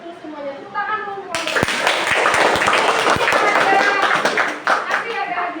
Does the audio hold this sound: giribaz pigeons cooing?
no